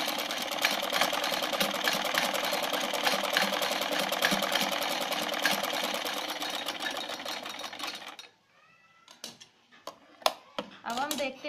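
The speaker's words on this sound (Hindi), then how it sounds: "अब हम इसमें पतली सिलाई लगाएंगे, हमें कितनी भी लंबी डोरी बनानी है।" A sewing machine stitches fabric to make a cord, running in a steady fast mechanical whir for about eight seconds before it stops, followed by a few scattered clicks and handling noises.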